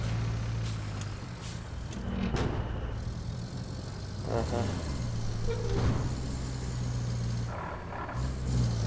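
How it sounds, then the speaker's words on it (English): A heavy truck in RoadCraft rumbles steadily, with sharp hissing air brake releases and a few beeps over the engine drone, loud and close. "So this is a cool truck."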